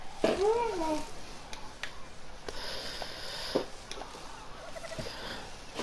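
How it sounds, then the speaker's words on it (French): Birds call in short chirps and whistles in the video game ARK: Crystal Isles, against a quiet ambient background, with a brief low sweeping call near the start. "J'aime bien, c'est qu'on écoute pas mal les oiseaux"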